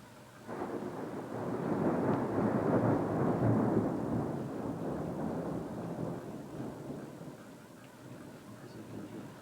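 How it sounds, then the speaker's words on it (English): Thunder from a storm at Golden Gate rolls as one long, low rumble, swelling over a few seconds and then slowly fading away with no voices. "there's a storm now at Golden Gate."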